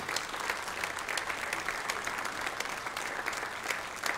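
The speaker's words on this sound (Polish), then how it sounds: "Gorące brawa." Steady, dense audience applause fills a concert award ceremony for Silesian schlager music, a continuous close wash of many hands clapping with no gaps and no voices standing out.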